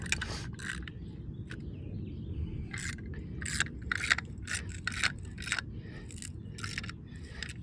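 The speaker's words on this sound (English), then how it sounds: "An extra deep socket to finalize the tightening." A ratchet wrench fitted with an extra deep socket tightens bolts on a Trex deck build, giving repeated short clicking bursts over steady low background rumble, close and moderately loud with no talking.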